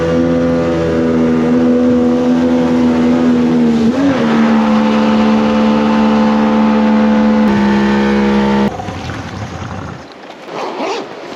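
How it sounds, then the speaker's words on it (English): A loud boat engine drones steadily at close range with a strong low hum, then cuts back to a rougher, quieter idle near the end. "Noisy bloody thing, this boat."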